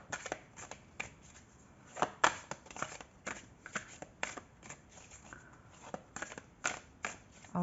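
Oracle cards are shuffled by hand in quick, irregular riffles and slaps, close and crisp, with no talk.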